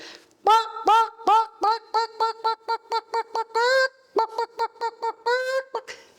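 A voice imitates a hen clucking with a rapid run of short, nasal bursts, a few longer squawks mixed in, loud and close.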